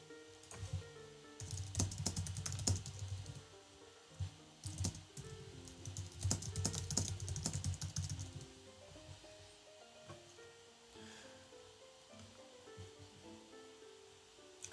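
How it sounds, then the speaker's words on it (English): Rapid clicking of a computer keyboard in two quick bursts of typing, close and faint against a quiet room background, then trailing off into stillness. "Fastlock is typing something out in Discord"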